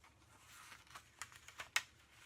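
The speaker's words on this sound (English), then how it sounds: "you make sure you put the corner right into the corner, and you punch" A corner punch clicks through scrapbook paper several times, each one a crisp, quiet, close snap, with small handling rustles in between.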